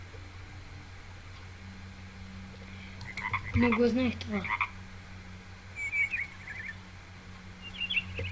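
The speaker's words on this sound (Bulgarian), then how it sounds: "Жаба." Frog in the video game Minecraft croaking in a short, throaty pulsed burst at mid-clip, followed by fainter chirping calls, over a low steady game hum with brief speech.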